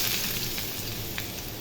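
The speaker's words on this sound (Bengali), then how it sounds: "পেঁয়াজ কুচি দিয়ে দিব" Chopped onions fry in hot oil with a dried chili, giving a steady, soft sizzle close by with no talking.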